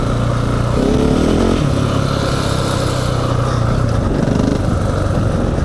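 A KTM 690 Enduro single-cylinder motorcycle being ridden on a mountain trail, its engine droning loud and close with rising and falling revs under heavy wind rush.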